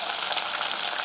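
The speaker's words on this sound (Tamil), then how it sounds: "2 பச்சை மிளகாய், தக்காளி, வெங்காயம் போட்டு நல்லா வதக்கிக்கலாம்" Green chillies, tomato and onion with rock salt sizzle steadily in a hot pan, a bright close-up frying hiss with faint stirring and no voices.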